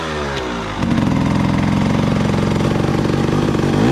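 A dirt bike idles and then revs up close on an overgrown dirt track, its engine note rising into a loud, sustained drone with a rough pulsing texture.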